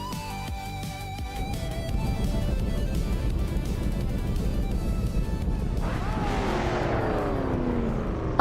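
A 1970 Dodge Coronet Super B races in an AI-driven game at Autopolis Oita, its engine a loud, steady roar that rises into a sweeping, climbing rev near the end, with other cars running alongside.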